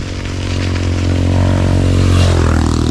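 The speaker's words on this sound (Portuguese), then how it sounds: "moto passando" A motorcycle passes close by on a road, its engine swelling to a loud, rough roar and then falling in pitch as it goes away, with no voices.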